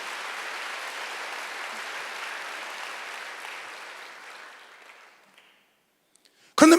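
Congregation applause during a Wednesday church worship service, a dense steady clapping roar that gradually fades out to near silence, then a brief loud burst of sound at the very end.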